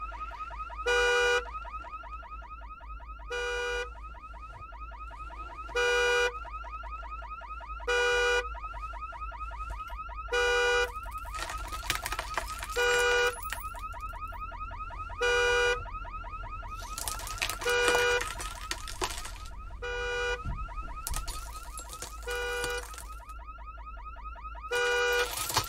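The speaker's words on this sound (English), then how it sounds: "Leave it to me to not turn off the car alarm first." A car alarm blares from an old station wagon in the horror video game Visage, sounding in loud, evenly spaced repeating bursts over a low background hum, with no speech.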